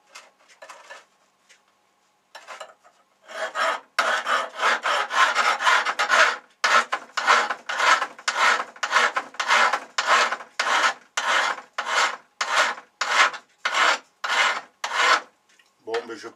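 Rhythmic rasping of a Japanese rasp across metal, a long run of about twenty quick, evenly spaced scraping strokes, loud and close, with no voices over it.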